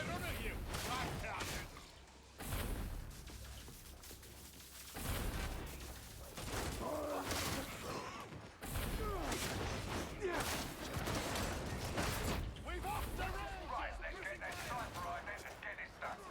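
Sniper and other gunfire in the video game Warhammer 40K Darktide, a dense, continuous barrage of sharp shots and booms with loud battle noise throughout and no clear speech.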